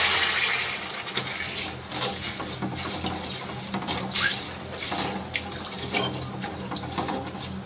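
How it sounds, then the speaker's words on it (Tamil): Water poured into a pan holding a cup of sugar on the stove, a steady splashing, trickling stream that stays fairly loud throughout with no talking. "அரை கப் தண்ணி சேர்த்துக்கலாம்."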